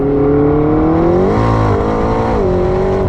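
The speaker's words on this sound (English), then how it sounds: "you step on the throttle, accelerate out, and you hear the turbochargers, you hear the air getting sucked in" A McLaren 675LT accelerates hard with a loud, continuous engine note heard close up, its pitch climbing and dipping slightly through the throttle, with turbocharger whine and intake rush layered over a deep rumble.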